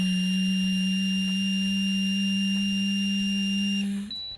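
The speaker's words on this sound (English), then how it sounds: "When the interlock sound changes from a rapid beep to a solid tone, continue blowing but add a steady hum." Smart Start SSI ignition interlock breath-test device giving a steady, loud electronic tone that holds for about four seconds before cutting off, with no voices.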